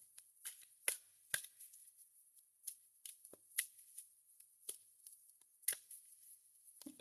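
Cards being shuffled in a very quiet room, a series of sparse, crisp slaps and flicks spaced irregularly, close and faint against near silence.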